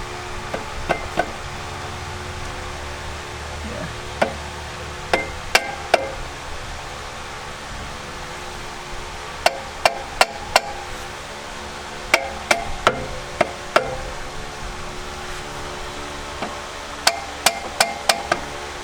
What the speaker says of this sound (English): you can get like a mallet and kind of just, you know, hammer the sides in so that way it's flush